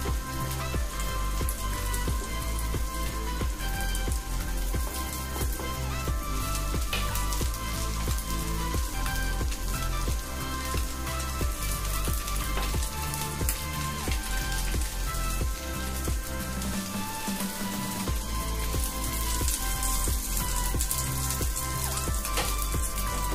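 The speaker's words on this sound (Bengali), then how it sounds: "আমার মাছগুলো ভাজা হয়ে গেছে, আমি এখন মাছগুলো নামিয়ে নিচ্ছি।" Prawns frying in hot oil in a pan give a continuous, loud crackling sizzle, steady and rain-like throughout with no talking.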